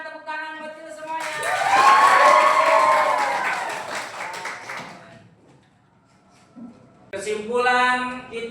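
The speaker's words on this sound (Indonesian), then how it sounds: "tepuk tangan buat kita semuanya" An Indonesian school class applauds after the teacher's prompt. A dense burst of clapping and children's cheering swells, then fades into near-silence, and a teacher speaks loudly before and after it.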